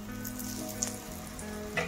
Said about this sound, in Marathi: आपण आता याला दुसऱ्या वाणालाही आपलं थालीपीठ भाजून घेणार आहोत